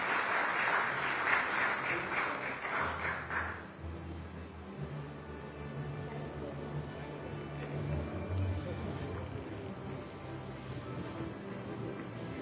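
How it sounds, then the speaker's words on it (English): Audience at a business conclave applauds a panel on stage, a dense burst of clapping for about four seconds that then fades into a low murmuring room with background hum. "big round of applause for this lovely panel."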